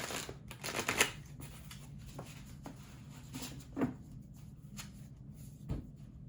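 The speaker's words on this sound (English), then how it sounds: "I'm just going to give them one more quick shuffle here so that you can see it." Quiet riffling and snapping of a tarot deck being shuffled, several quick bursts with soft taps between, close up and without speech.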